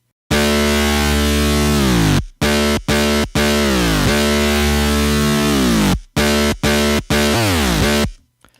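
A dirty, heavily distorted electro bassline synth made in Sylenth plays loud buzzing sustained notes with downward pitch sweeps, broken by short gaps into a choppy rhythmic pattern.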